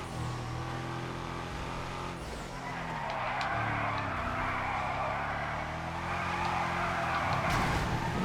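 A Drift Yosemite is thrown into a slide in GTA FiveM, its engine droning while the tires squeal and skid continuously, rising in pitch and intensity as the drift carries on.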